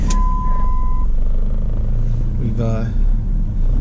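A 2004 Dodge Neon SXT with a 2.0L engine idles steadily around 900 RPM, a continuous low rumble with a brief beep near the start and a short tonal whine later, while someone speaks.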